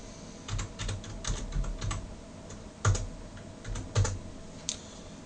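Short command being typed on a computer keyboard, a quick run of close, light key clicks with a couple of sharper taps, no voice.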